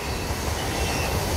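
Freight train P72, hauled by two GE Evolution locomotives, rolls past on Suwanee Curve with a loud, steady rumble and a faint squeal of wheels on the rails.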